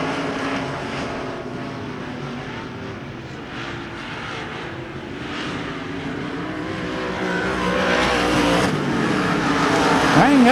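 Race cars roar around the oval at Devil's Bowl Speedway at the green flag, a dense, sustained engine drone that swells louder toward the end as the pack comes closer.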